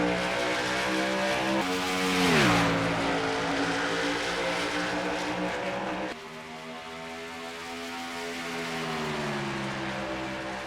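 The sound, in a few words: race trucks restarting at Icebreakers 200 race, Minnesota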